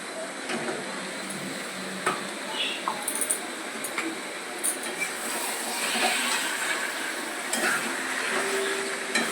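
Chicken pieces go into a pan of spiced masala already cooked down with tomato and are stirred, giving a continuous, fairly quiet sizzle broken by scattered scraping and clinking sounds from the spoon against the pan.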